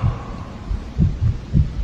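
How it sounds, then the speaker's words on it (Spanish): Heartbeat sound effect in a Spanish-language reading of Poe's "The Tell-Tale Heart": low, muffled thumps land in paired beats, growing heavier toward the end over a faint hum, with no voice. "el pálpito infernal del corazón del viejo era cada vez más fuerte, más rápido, sobre todo más sonoro"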